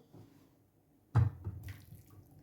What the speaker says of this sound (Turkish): Şöyle yoğurdumuzu dökelim.